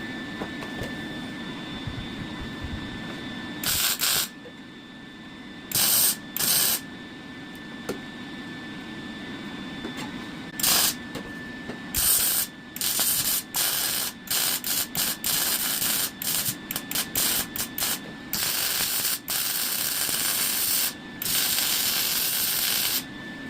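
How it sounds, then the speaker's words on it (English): Weld-through primer is sprayed from an aerosol can onto a BMW E36 jack point rust repair, loud hissing bursts of varying length repeating close to the mic with no talking. "going to spray that real quick with some weld through"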